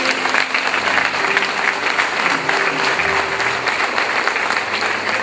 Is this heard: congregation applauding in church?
yes